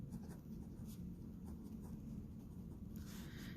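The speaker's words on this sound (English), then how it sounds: "Let's write those down" Pen or pencil scratching notes onto paper, a soft continuous scribbling with brief strokes, faint and close in a quiet room.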